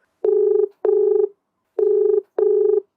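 An outgoing phone call rings on the line, two pairs of buzzy, harmonic ring tones separated by a silent gap, loud and clean with no voices.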